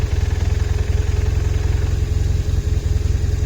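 BMW R1150RT motorcycle engine idling with the clutch lever pulled in, a loud, close, steady low throb with an even pulsing rhythm and slight irregular dips, no talking.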